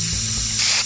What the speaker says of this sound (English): we'll be turning our spray cans on